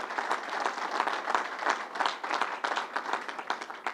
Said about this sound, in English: Let's give Jeff Wilpon a big round of applause.